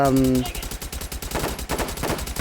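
The Waddicker gun fires full-auto in a video game, a brief tonal hum giving way to a steady, rapid rattle of shots that continues to the end, with a voice faintly present.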